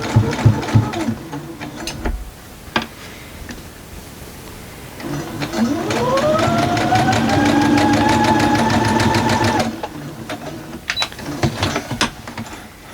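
A sewing machine stitches a quilt block seam for several seconds, its motor whirring up in pitch and holding steady, with clicks and fabric handling before and after.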